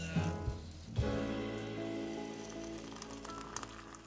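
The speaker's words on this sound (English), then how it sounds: "That means it's time to add it into the French press itself." Freshly boiled water is poured into a French press for coffee, a soft, steady splashing trickle that runs quietly and continuously after a couple of brief clunks at the start.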